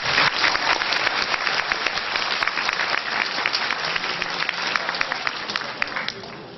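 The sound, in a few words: audience applause welcoming a lecturer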